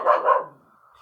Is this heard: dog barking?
yes